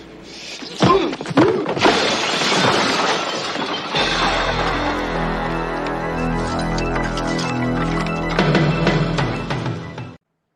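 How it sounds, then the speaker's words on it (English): In the 1987 film Over the Top, a man is thrown through a glass door: a loud burst of crashing, shattering glass, followed by a long sustained musical swell that fades out. "Terry Funk gets punched in the stomach and thrown through a glass door"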